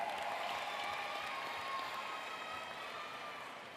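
A commencement ceremony audience claps and cheers for a graduate in a steady, fairly distant wash of applause that fades slightly toward the end.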